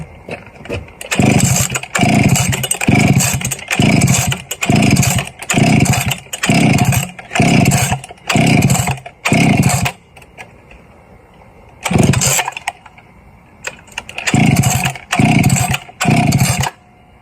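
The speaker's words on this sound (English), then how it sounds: "So now I'm gonna see if it'll start." Stihl 031AV chainsaw with a cleaned carburetor, pulled over repeatedly in a rhythmic series of loud starter-cord bursts, then after a brief pause it catches and runs in short loud revving pulses close to the microphone.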